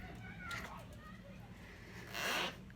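Children playing across the road outdoors, distant shrieks and calls rising in two bursts, with a louder cry toward the end over quiet background.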